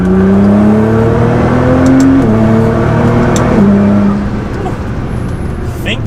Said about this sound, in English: Do a 3rd gear pull.